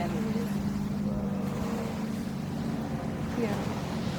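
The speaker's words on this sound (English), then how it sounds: "it's too windy." Steady outdoor wind roars and buffets continuously at a wedding ceremony, a broad, rumbling gust noise with no letup, close and fairly loud against the microphone.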